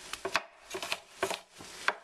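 Onions being sliced with a knife on a cutting board, a crisp, close series of short irregular chopping taps in small clusters with brief pauses between strokes.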